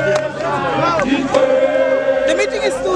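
Protest crowd in Mafikeng moving toward the North West Province premier's meeting, a loud close mass of shouting and babble with sharp bursts rising over it, while police vehicles edge through.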